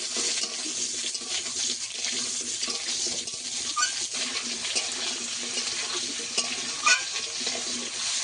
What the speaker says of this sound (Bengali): আলুটাকে কিছুক্ষণ ভেজে নেব